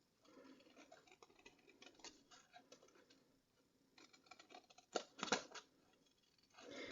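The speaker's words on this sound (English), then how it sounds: "As I'm cutting the flower, you'll notice I'm leaving a little bit of white on the outside of the lines" Stampin' Up! paper snips cutting around a paper flower shape, quiet close snipping and scratchy paper cutting in short bursts, with a few sharper snips near the end.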